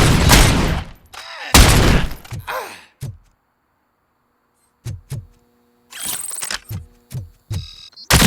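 Loud bursts of gunfire in RoboCop: Rogue City, several heavy volleys separated by quiet gaps, with sharp single shots and clanking impacts between them.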